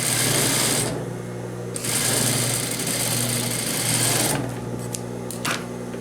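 A sewing machine with an invisible zipper foot hums steadily while stitching a skirt seam, close and loud, the motor pitch shifting slightly as it speeds up and slows, with a few light clicks near the end.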